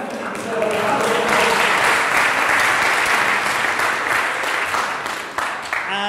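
Audience applause at a talk introducing a climate action lab, a dense burst of many clapping hands that swells quickly, holds steady for several seconds, then tapers off near the end.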